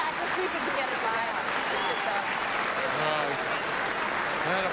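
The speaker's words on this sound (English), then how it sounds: "That applause should be for those two, Nelson and Wheatcroft." Crowd applause at a curling skins game, a steady wash of clapping throughout with a commentator's voice talking over it.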